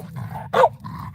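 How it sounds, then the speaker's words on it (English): A pet dog gives a single short bark indoors, sharp and fairly close, over a faint background hum. "buddy, no barking."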